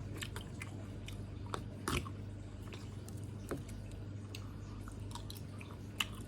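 Chewing and biting on a 7-Eleven minced pork basil stir-fry, soft crunchy bites repeating close to the mic over a steady low background hum, with no talking.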